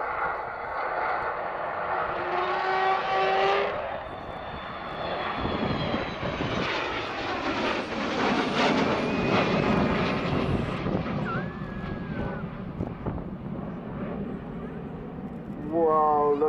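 A Vulcan jet bomber makes a pass at the Cosford airshow, a loud roaring rumble with whining engine tones that swells and shifts as it goes by. People talk over the noise.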